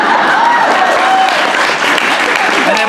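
Loud, sustained applause from a convention audience fills the room as a dense, even roar of clapping hands, with a voice faintly present beneath it.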